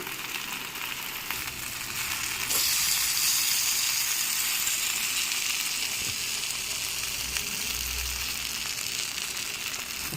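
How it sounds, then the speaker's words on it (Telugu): Masala-coated fish pieces fry in hot oil, a steady close sizzle and bubbling hiss that swells slightly after a few seconds and carries on evenly, with no talking. "రెండో వైపు కూడా బాగా కలర్ వచ్చేంత వరకు వేయించాలి"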